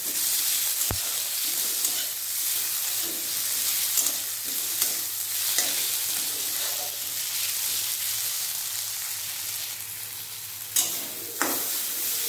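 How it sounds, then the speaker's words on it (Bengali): Ginger, two green chillies and chopped tomato fry together in hot oil for a light vegetable jhol, giving a steady close sizzle with soft spatula stirring and a sharp tap near the start. "এর মধ্যে আদা আর দুটো লঙ্কা আর টমেটো কুচি দিয়ে দেবো। আমি একসাথে দিয়ে ভেজে নেব।"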